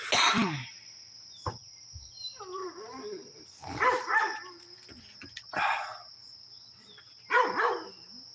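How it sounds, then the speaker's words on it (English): A dog barks in several separate gruff bursts spread out over a few seconds, fairly close and loud, with a steady high electronic whine running underneath. "He's just borking, doing dog things, bro."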